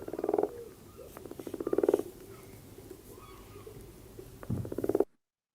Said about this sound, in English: Oh, that's a frog. Definitely a frog.